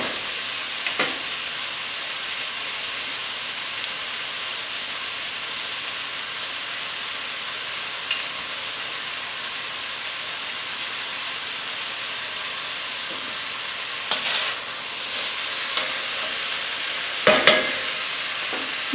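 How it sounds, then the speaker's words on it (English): Crushed garlic and chopped ginger fry in a pan for a vegetable curry, giving a steady, fairly loud sizzle over about twenty seconds with occasional stirring scrapes and one sharp clink near the end. "now we're going to add about 5 cloves of crushed garlic and a tablespoon of chopped ginger. Let this cook for a sec"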